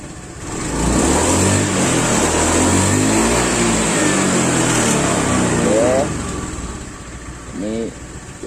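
A Honda Beat scooter engine idling steadily and revving after repair of an unstable, misfiring ignition, close and loud, with speech briefly over it near the end.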